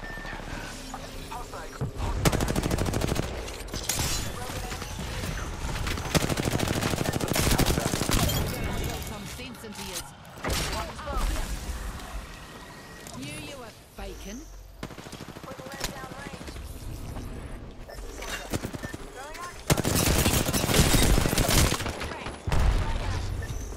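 Video game gunfire crackles in bursts of automatic fire with repeated volleys and booms across a combat scene, loud and near, with voices talking over the shooting at times.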